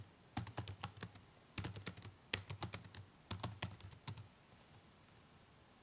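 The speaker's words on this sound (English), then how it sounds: "So I'm going to type" Bursts of rapid key clicks on a computer keyboard, several quick flurries of typing separated by brief pauses, close and fairly quiet.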